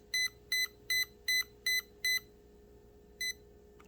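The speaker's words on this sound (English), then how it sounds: "it only beeped once" An RC truck's electronic speed controller gives six short, evenly spaced high beeps, falls quiet for a moment, then beeps once more over a faint steady hum.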